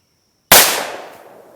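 A single loud, sharp shot from a Ruger GP100 .357 Magnum revolver with a six-inch barrel bursts out of silence, then its echo decays over about a second outdoors.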